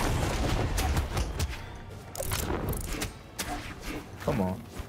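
Bombs and hits burst in a Brawlhalla match, several sharp booms and crashes scattered through a busy, loud mix of game effects.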